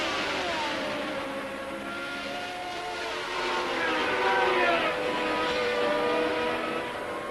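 Formula One cars from the 1979 Canadian Grand Prix race past in a steady, loud engine roar, rising slightly in intensity midway, with overlapping whining tones and no talk.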